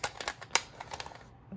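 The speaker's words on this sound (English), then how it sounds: "Make sure the tape's tucked in with a good squeeze and done." An 8-track tape cartridge's plastic shell pressed and snapped together, a quick run of faint clicks and small plastic taps over about a second, close and quiet.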